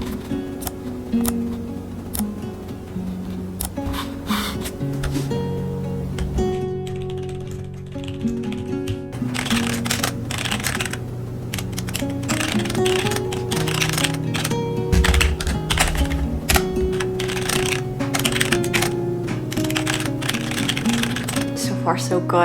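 Computer keyboard typing during fantasy novel writing, a quick, irregular clatter of close key taps in bursts with brief pauses, and background music playing along.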